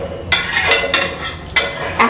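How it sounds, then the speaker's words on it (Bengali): Chickpea dal mixture being stirred with water in a pan, a spoon scraping and knocking against the pan in several distinct strokes, close and fairly loud, spaced irregularly over about two seconds. "এখন আমি এর মধ্যে দিয়ে দিচ্ছি পরিমাণ মতন জল। জলটাও ভালো করে মিশিয়ে নিতে হবে।"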